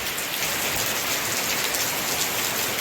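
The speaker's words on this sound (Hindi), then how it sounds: "अब देखिए कितने जम के बारिश हो रही है" Heavy rain pours down steadily and loudly close by during a spell of prolonged wet weather, a dense, unbroken hiss with no voices.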